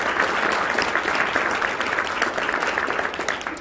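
A town hall audience applauds steadily, a dense wash of many hands clapping at moderate volume throughout, thinning slightly toward the end.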